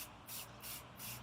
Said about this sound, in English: spray the soapy water